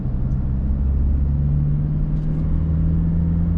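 An automatic transmission car climbs a hill, its engine holding a steady, loud rumble close by with a constant low drone and no clear break for a gear change.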